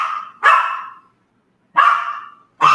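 A pet dog named Sika barks at home in three loud, close, separate bursts, each ringing and tapering off, with short silences between them.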